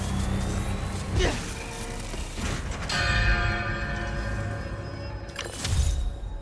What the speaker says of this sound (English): Gotta recreate the sound of Craven's bell.